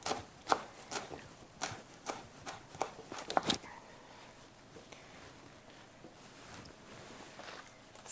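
A knife chops coriander into fine thin strips on a cutting board, giving a quick run of sharp, close taps that is loudest early on and then thins into softer scattered cuts.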